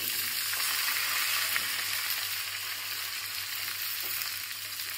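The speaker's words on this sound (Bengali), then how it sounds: "এইবার আমি শুধু আলুটা দিয়ে দেবো, আলুটা ভাজে দিয়ে দেবো।" Potatoes frying in a pan for a paneer and capsicum curry, added after the tempering spices; a steady, fairly loud hiss of sizzling oil runs the whole time, with no talking.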